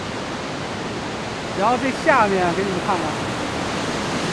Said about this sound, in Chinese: 后面还有瀑布